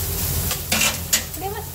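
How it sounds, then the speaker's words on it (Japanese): Whelk and baby corn stir-frying in a pan for a butter sauté, with a steady soft sizzle and occasional light clatter of a utensil against the pan, close and continuous. "こんな感じで結構炒まりました"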